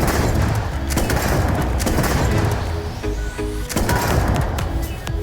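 The Negotiator grenade launcher in Starfield fires repeatedly, each shot a sharp, loud thump over a busy din of combat. Brief pauses separate the shots, and a reload clatters partway through.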